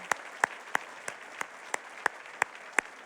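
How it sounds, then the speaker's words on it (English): A banquet audience gives a few scattered, sharp claps for newly named board members, with roughly eight distinct claps spaced evenly across a quiet room rather than full sustained applause. "Let's give him a applause."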